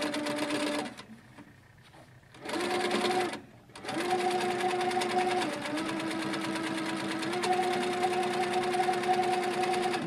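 A Handi Quilter quilting machine stitches in steady, fast bursts close by, with a brief pause and a short gap before it runs on continuously at a constant hum.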